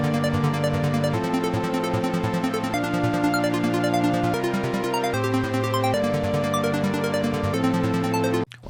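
An Ableton Operator synth runs through a 16th-note arpeggiator, cycling rapid even notes in a steady pattern that shifts pitch every bar or so, loud and alone before stopping abruptly at the end.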